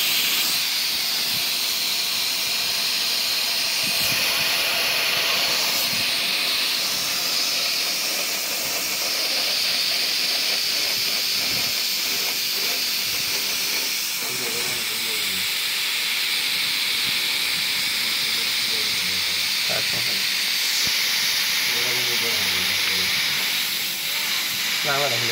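Refrigerator compressor running while gas, oil and dirt blow out of opened capillary tubing, a loud continuous hissing rush lasting throughout with small fluctuations, and faint talk underneath.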